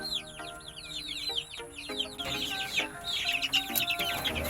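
Rhode Island Red hens and chicks cluck and peep together at close range, a busy mix of soft clucks and rapid high chirps with no talk.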